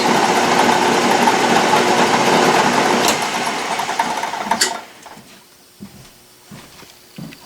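An Atlas lathe cuts a Woodruff keyseat with a steady, high mechanical whir that runs evenly for several seconds, then winds down and stops, leaving a few faint knocks in a quiet shop.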